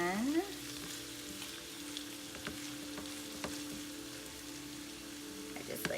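Meatballs fry in a pan with a steady, close sizzle and crackle that runs throughout, with a few scattered pops and scrapes and a low hum beneath.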